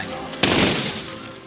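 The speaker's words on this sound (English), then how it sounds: "If I press C, that cannons will fire" A tank's cannons in the video game Besiege fire in one sudden loud blast that rings out and slowly fades over the next second.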